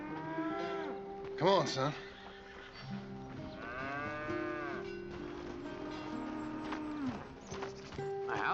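Cattle moo in a few drawn-out calls during a farm milking scene in Red Dead Redemption 2, with horse snorts and clip-clop faintly around them and a voice speaking briefly.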